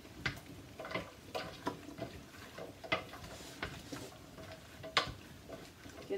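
A spoon stirs cabbage and carrots into a pot of Mexican vegetable soup, giving repeated soft scrapes and light clinks against the pot in a loose, steady rhythm, close and moderately quiet.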